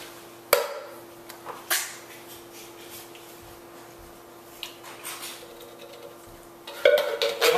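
Canned beans, juice included, scraped from the can into a pot of chili: metal clanks and scrapes against cookware, a few sharp knocks and then a busier clatter at the end, fairly close and quiet.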